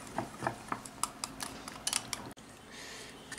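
Puffed rice batter being mixed in a bowl, a spoon clinking and scraping against the sides in quick irregular taps, close and fairly quiet, with a short pause partway through.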